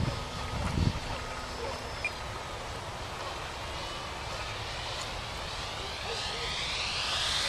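An RC FunCub model airplane flies on a windy day, its small electric motor a steady, moderate whine that brightens toward the end under constant wind noise, with a brief louder burst of wind or handling near the start.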